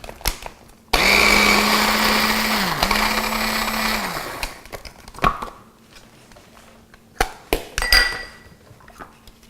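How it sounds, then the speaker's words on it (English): A food processor blends vegetables with a little oil: the motor starts abruptly and whirs loudly for about three seconds with a brief dip, then cuts out, followed by scattered clinks and knocks of the bowl and lid. "I put them in my food processor with a little bit of oil, and I blend it up"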